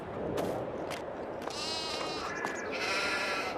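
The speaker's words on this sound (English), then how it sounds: "we've checked out the sheep" Several sheep bleat in Farming Simulator 22, their calls rising over a steady farm ambience, a couple of overlapping bleats near the start and a louder drawn-out one toward the end, with no talking.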